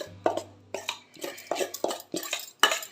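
Close metallic scraping and clinking of a spoon stirring pakoda kurma in a pot, in short irregular strokes.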